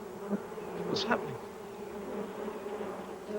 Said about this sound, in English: There was a wasp's nest where his heart should have been.